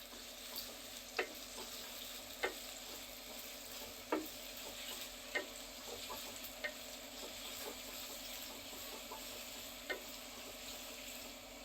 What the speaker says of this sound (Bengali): তেলটা এখন গরম হলে দিয়ে দিব পেঁয়াজ কুচিটাকে একটু বাদামি রঙের করে নিব।